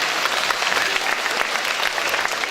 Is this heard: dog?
no